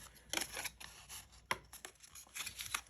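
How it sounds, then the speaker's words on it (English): A bone folder rubs along the folded score line of a paper card, making short, soft scraping strokes in quick bursts, close and fairly quiet. "Give it a rub with your bone folder."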